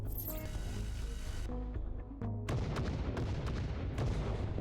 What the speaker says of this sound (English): Cool little explosions.